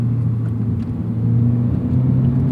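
A Toyota GR86 10th Anniversary Special Edition with GR exhaust drones at steady cruise, a low, constant resonant hum filling the cabin with no break.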